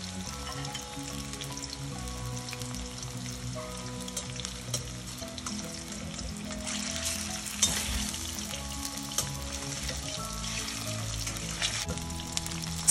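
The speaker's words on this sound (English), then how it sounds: "Slightly brown both the sides of the pieces and take them out. And fry all the pieces just like this." Fish pieces frying in a pan for a fish curry with brinjal and coconut milk, a continuous close sizzle and crackle with occasional pops and spatters.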